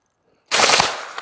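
UMP submachine gun firing 115 grain full metal jacket rounds: a single sharp, loud burst of rapid shots that ends abruptly and rings out briefly afterward.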